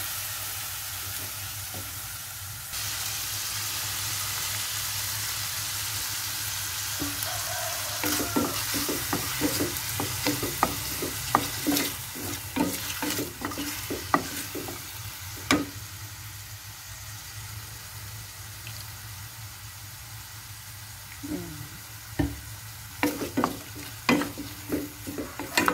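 Dried fish (tuyo) frying in a pan, a steady sizzle and hiss running throughout with scattered crackles and pops and occasional utensil clinks, close and moderately loud without speech.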